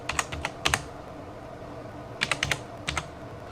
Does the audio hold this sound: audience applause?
no